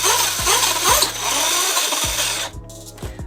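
The electric motor of an Axial SMT10 RC monster truck revs with its tires spinning freely in the air, giving a loud, close, high whine with rhythmic low pulses of the spinning wheels, rising and falling briefly.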